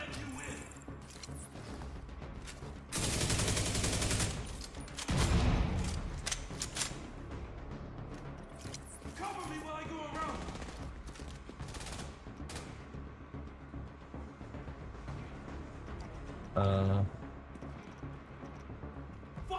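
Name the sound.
gunfire in the video game Division 2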